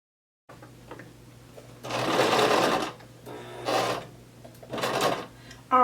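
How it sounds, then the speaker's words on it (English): A sewing machine stitching a duster coat runs in three close, loud bursts of rapid needle whirring, with short pauses and light fabric handling between them. "and I'm going to keep sewing."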